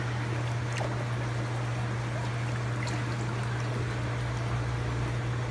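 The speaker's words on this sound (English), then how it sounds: "can pour out some of the excess water." Excess water pours and trickles out of a tub holding a giant stingray, a steady, fairly faint splashing stream over a low background hum, with no talk.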